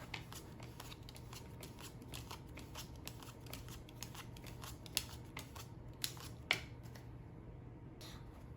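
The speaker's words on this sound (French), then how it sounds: "On mélange les cartes et on en distribue 7 à chaque joueur." A deck of playing cards being shuffled, a quiet run of crisp rapid riffling clicks with a few sharper snaps near the end, close and alone.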